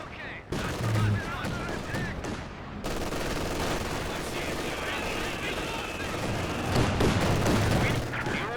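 Sustained, dense machine gun fire and scattered battle noise from Company of Heroes 2 rattle on almost without pause for several seconds, with a commentator talking over the combat.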